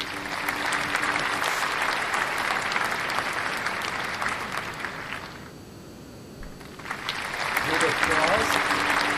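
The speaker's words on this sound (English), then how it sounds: "I'm going to give you a little applause" A burst of applause plays during a live-stream jewelry-making session, loud and steady, then a brief lull before a second round of clapping swells back up.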